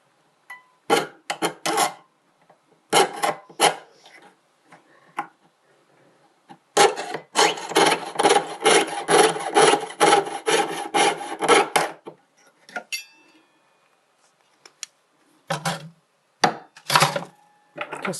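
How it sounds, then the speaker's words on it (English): Snipping a small strip of silver metal for an inlay pendant makes sharp, close cuts in short bursts, then a longer run of rapid rasping snips, followed by a few more scattered clips in otherwise quiet surroundings. "Just cut a little strip of metal off and poke that in."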